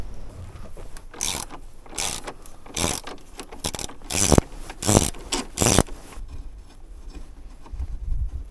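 A nut is being loosened on a vehicle winch, with a run of metallic ratcheting clicks and scraping turns in quick, uneven strokes, close and clear, tapering into quieter handling noise.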